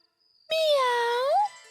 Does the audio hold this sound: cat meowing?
yes